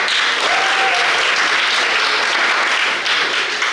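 Loud, continuous clapping fills a quiz hall as the audience applauds the competing school teams, with one brief voice over it early on and a steady wash of applause throughout.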